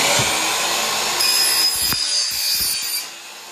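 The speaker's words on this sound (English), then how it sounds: "Let's cut one and test." A saw cutting through 1-inch ABS plastic pipe for a chick brooder build, heard as a loud, close rasping hiss with a few short scraping strokes toward the end.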